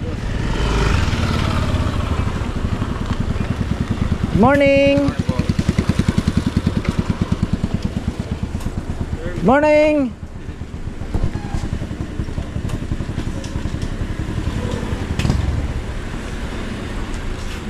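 Motorcycles idle and rumble as they pull in to park at a busy eatery, with steady engine drone throughout and horn-like tonal blips, while people exchange greetings over the noise.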